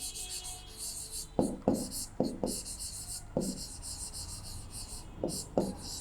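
Chalk or marker strokes on a classroom board during a class 10 maths lesson on quadratic equations, coming as short scratchy bursts in irregular clusters, close and fairly quiet, with no talk during the strokes.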